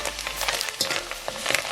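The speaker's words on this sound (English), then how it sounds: "You can hear the sound of it like it's frying." Vegan peri peri mince frying in a pan on a stove at medium heat, giving a steady close sizzle with scattered crackles and pops.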